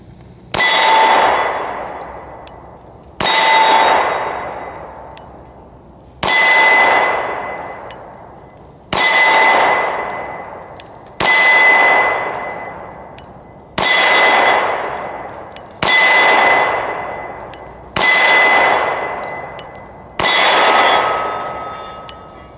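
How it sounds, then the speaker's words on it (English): An FN 510 10mm pistol fires nine evenly spaced shots at a close-range steel polar bear target, each a sharp crack followed by a loud metallic clang that rings and fades before the next. "So I'm starting with the FN-510 at the polar bear target."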